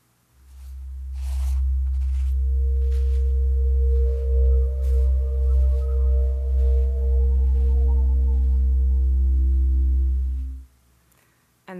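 Electronic soundscape made from satellite sea ice data for the freeze season: a deep, steady synthetic drone with layered sustained tones entering and fading above it, a slow pulsing swell in the middle, and sparse soft clicks before it cuts off.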